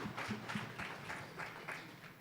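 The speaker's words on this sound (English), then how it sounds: "round of applause" Audience applause at an AI fireside chat event, a soft, steady patter of many hands clapping at a distance, fairly faint throughout.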